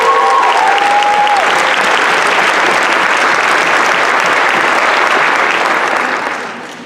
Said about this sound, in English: Let's give them a round of applause for that great